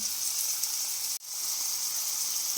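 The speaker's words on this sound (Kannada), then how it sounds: "ಸಣ್ಣ ಉರಿಯಲ್ಲೇ ಈ ಥರ ಫ್ರೈ ಮಾಡ್ಕೊಳ್ಳಿ." Carrots, beans and peas fry in ghee over a low flame with onion, ginger and garlic, giving a steady, close hiss of sizzling that briefly cuts out for a moment before resuming.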